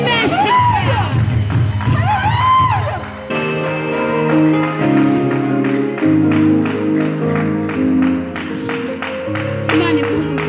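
At a church gathering, a loud crowd cheers and shouts, then keeps clapping along as rhythmic worship music with drums and keyboard starts up.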